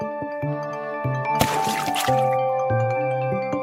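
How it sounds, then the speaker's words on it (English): A soft splash of something dropping into river water, with gentle piano-like music playing steadily before and after. "the ant lost his balance and fell into the river water"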